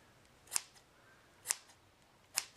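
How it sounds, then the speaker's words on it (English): Scissors snip three times while trimming a handmade yarn pom pom, each cut a crisp, close, isolated click spaced about a second apart against quiet background. "you can just eyeball it and just start trimming"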